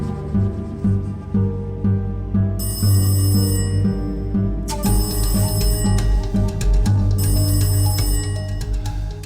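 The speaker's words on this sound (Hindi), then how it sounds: "एक तो ये फोन भी ना ड्राइंग रूम में बिल्कुल ठीक था, यहाँ पे तो इसकी घंटियां बंद ही नहीं होती" A telephone bell rings in repeated bright metallic bursts over a low drone of dramatic background music, steady and moderately loud with no speech.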